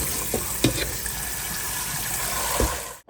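Fresh tap water runs steadily into a bowl to rinse vinegar off cut chicken for Jamaican brown stew chicken, a continuous close splashing with a few louder knocks of the pot or bowl.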